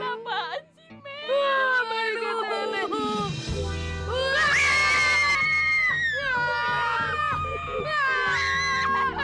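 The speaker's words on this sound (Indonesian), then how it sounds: "Kayaknya suara orang yang lagi teriak-teriak gitu deh." Cartoon characters scream loudly and continuously, several shrill, wavering voices overlapping and sliding in pitch over a busy animated soundtrack.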